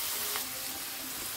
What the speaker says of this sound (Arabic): هقلبها برضو تقلبتين بس كده، وانزل بالفلفل الاخضر.